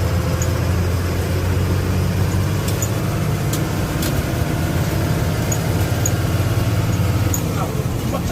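An old Leyland truck engine drones steadily with a low rumble while driving, continuous throughout, with voices talking faintly under the noise.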